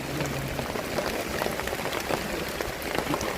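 Heavy rain pours steadily onto an emergency camping tent set up in a garden, a dense, even hiss of countless drops drumming on the fabric with no voices.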